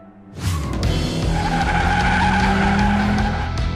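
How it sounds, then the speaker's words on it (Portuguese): Tires screech loudly and continuously over a roaring car engine, a sustained skid that holds steady from start to finish. "Ouço o barulho dos pneus e o som do motor."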